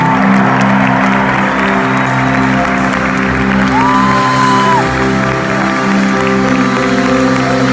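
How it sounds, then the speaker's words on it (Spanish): A church audience applauds loudly and steadily at an evening service in Guatemala, with whoops and cheers rising over dense clapping and a low sustained musical drone underneath. "fuerte aplauso a Jesús"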